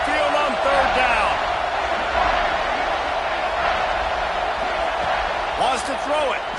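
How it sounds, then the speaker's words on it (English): A college football stadium crowd at Saban Field roars on third down against the Gators, a sustained wall of noise under a commentator talking throughout. "The Tide crowd rolling noise down onto Saban Field on 3rd down."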